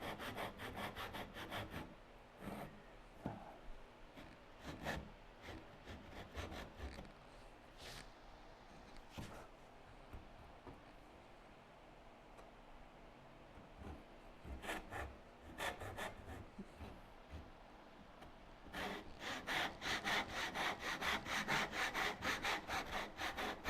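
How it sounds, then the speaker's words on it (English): A hand saw cuts through wood while bench hooks are made, with bursts of rhythmic rasping strokes separated by pauses, and a faster, harder run of strokes toward the end. "The sawing is now done."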